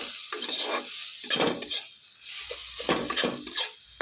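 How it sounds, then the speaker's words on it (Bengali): An onion and egg mixture is stirred in a frying pan, several rhythmic scraping strokes over a soft sizzle, close and fairly loud. "এবার ভালো করে নেড়ে করে মিশিয়ে নেব"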